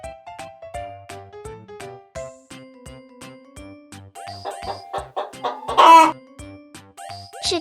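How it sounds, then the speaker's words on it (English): A farm chicken clucks in a short, loud burst of squawks midway, set over light, bouncy background music with repeated plucked notes. "Chicken."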